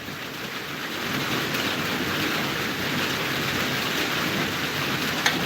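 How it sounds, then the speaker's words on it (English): Steady light rain drizzling outdoors, a continuous hiss of fine drops holding at an even level throughout with no voices. "Yeah, Nikki, it's actually drizzling right now"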